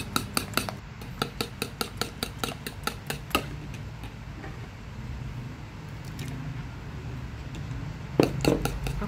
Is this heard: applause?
no